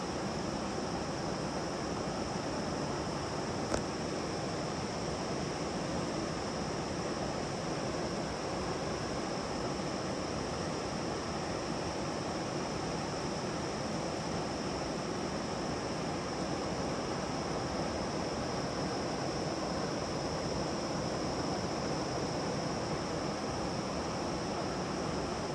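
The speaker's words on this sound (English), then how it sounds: "The sound of that water going over that sure is, kind of sounds like a windy ocean day" Water pouring over Dawson Falls on a river, a constant broad roaring rush like wind over the ocean, steady and unbroken for the whole stretch with no talk.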